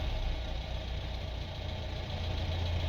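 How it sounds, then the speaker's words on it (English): A 1988 FSO Fiat 125p car engine idles steadily and close, a low, even rumble with a slight knocking pulse and no talk over it. "So the engine is warmed up at this point, and it runs pretty good."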